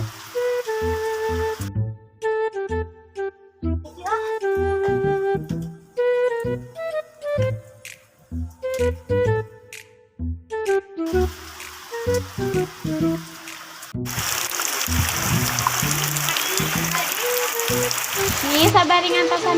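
Rain falls with a steady broadband hiss that swells in the second half, after a stretch of music and talking.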